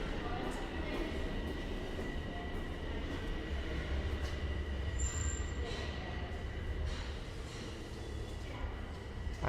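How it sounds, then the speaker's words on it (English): A Toronto subway train at Rosedale Station, a loud steady rumble and roar filling the platform with a brief high squeal partway through, with faint voices in the background. "I will not be on that train. We'll be on the next one."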